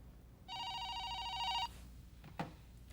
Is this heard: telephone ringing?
yes